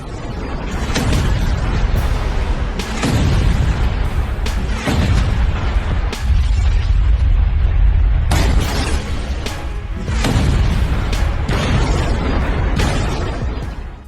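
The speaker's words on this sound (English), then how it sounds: "Explosions struck urban areas." Missile explosions strike urban Tel Aviv in a rapid series of loud, heavy blasts and shattering bursts, booming one after another with rumbling low-end crashes and brief gaps between impacts.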